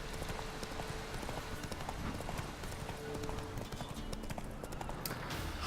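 Roach, the horse in Witcher 3, gallops with fast, continuous hoofbeats that stay loud and close, over a dense game soundscape.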